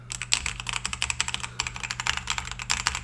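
Nimbleback Kilmat mechanical keyboard with a single layer of tape inside, typed on rapidly, giving dense, close, fairly soft and muted key clacks in a continuous stream with no voices.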